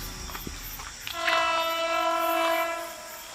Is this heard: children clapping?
no